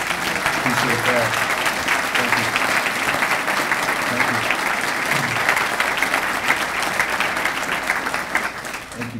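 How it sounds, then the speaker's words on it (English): An audience applauds judges at a Cook County Circuit Court event, a steady, full round of clapping lasting throughout and tapering slightly at the end, with faint voices underneath. "I just like those judges to stand as well and receive a great round of applause"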